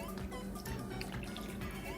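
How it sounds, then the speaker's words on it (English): Juice from canned sweet potatoes is poured into a baking dish, a steady close trickle and gurgle of thick liquid that runs without a break and is heard alone. "I'm going to pour the rest of the juice that was in both cans"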